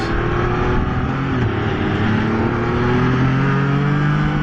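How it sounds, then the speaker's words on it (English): A Can-Am Spyder RT touring trike accelerates, its engine note steady and loud up close with a rising rumble and mild wind rush throughout, no voices. "It does accelerate very nicely, and it does handle the bumps really well."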